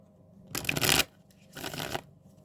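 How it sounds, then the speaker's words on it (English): Two bursts of tarot cards being shuffled, close and crisp, each riffle lasting about half a second with a short pause between. "One more shuffle."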